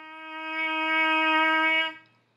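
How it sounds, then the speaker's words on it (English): A brass player's lips buzz into a mouthpiece alone, a steady, loud, reedy drone held for nearly two seconds before cutting off. "And that is how you buzz with the mouthpiece."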